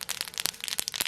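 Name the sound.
mustard and fennel seeds spluttering in hot oil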